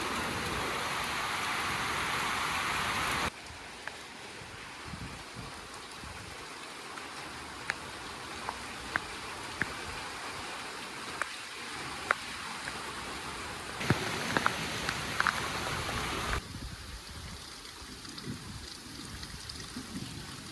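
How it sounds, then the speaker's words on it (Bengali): Heavy rain pours steadily over an outdoor rural setting, a dense continuous wash with brief louder surges and scattered drips and splashes standing out near the microphone, no voices. "বাতাস কমছে আর জোরে বৃষ্টি নামছে"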